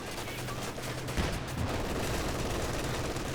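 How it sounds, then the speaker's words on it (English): MG34 machine gun firing in Company of Heroes 2, a dense continuous rattle of automatic fire blended with battle noise, loud and steady throughout without pauses. "MG34 firing away."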